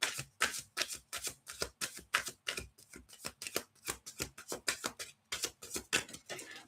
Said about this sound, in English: I'm shuffling for Tina